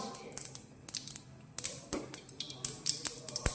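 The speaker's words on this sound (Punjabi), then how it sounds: "ਸਰੋਂ ਦੇ ਦਾਣਿਆਂ ਨੂੰ ਪਹਿਲਾਂ ਚਟਕਣ ਦਿੰਨੇ ਆ" Mustard seeds crackle and pop in hot oil for a pickle tempering, a run of sharp, irregular snaps and ticks close up that grow busier as they go, with no talk.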